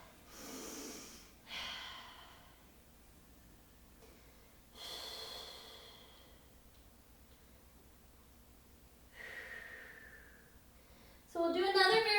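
Audible breaths during a Pilates mat exercise: a few separate inhales and exhales spaced several seconds apart, close and fairly soft, with a short burst of speech at the end.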